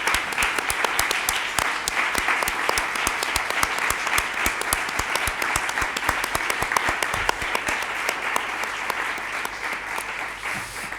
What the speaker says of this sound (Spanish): quisiera empezar con un aplauso para todas las mujeres que nos han dejado